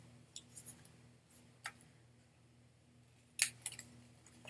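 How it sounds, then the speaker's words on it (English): Scissors trimming paper, a few faint isolated snips spread out in a quiet room, with one sharper cut near the end. "I want to trim off a little more."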